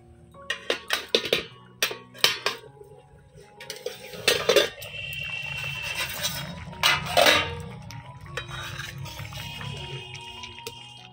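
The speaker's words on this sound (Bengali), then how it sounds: "এবারে ঢাকনাটা তুলে একটু নাড়াচাড়া করে দেই।" A pot lid lifts off masoor dal (red lentils) on the stove, followed by a run of sharp metal clanks and a spoon scraping and stirring through the soft lentils, close and fairly loud with a low bubbling underneath.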